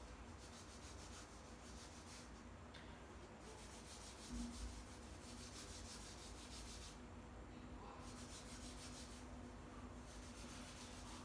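Soft, rhythmic rubbing of candlenut oil into a ramin wood arrow, repeated back-and-forth strokes, faint and close with no talk.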